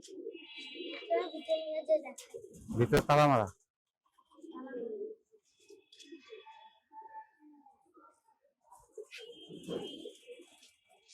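Pigeons on a house roof give a few soft coos and bird calls between stretches of nearby conversation, with one loud harmonic burst standing out briefly.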